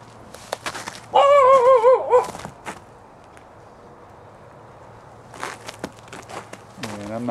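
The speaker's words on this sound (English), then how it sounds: "Got a dog next door." A dog next door to a house gives a short burst of whining, yelping barks close by, with footsteps and faint movement around it and another brief whimper near the end.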